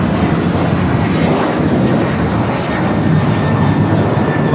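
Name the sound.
Alaska Airlines Boeing 737-800 taking off from LAX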